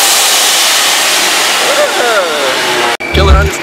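A car revving at a street car meet with two-step launch control, a loud sustained roaring engine note that rises and wavers, then cuts abruptly and comes back with popping, sputtering bursts, close by, with people talking over it.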